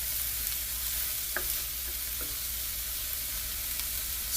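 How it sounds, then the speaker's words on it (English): Steady, hissing sizzle of oil frying in a skillet, continuous and even, with a couple of faint clinks. "Still frying up."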